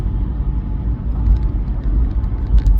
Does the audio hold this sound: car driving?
yes